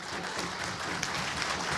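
A live audience at a televised political poetry stage event breaks into dense, sustained applause, a broad wash of many hands clapping evenly for the whole short stretch.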